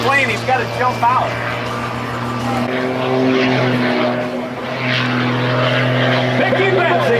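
A propeller airplane taxis at an airshow fly-in in Arlington, its engine holding a steady drone with a strong low hum close by. A loud voice talks over it throughout.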